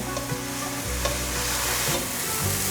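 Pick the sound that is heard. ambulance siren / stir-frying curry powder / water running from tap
stir-frying curry powder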